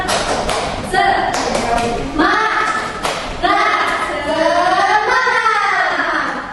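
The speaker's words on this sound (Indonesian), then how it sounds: "Coba kita tepuk semangat dulu yuk." A classroom of children performs a rhythmic spirit clap, a run of sharp hand claps and taps in patterned bursts, with children's voices chanting along loudly throughout.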